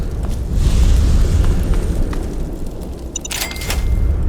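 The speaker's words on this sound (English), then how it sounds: "Oh, and frag mines." Deep rumbling booms roll through a Fallout 3 battle as frag mines go off, a loud, sustained low blast followed by fainter crackle and a few short electronic beeps, with no talking.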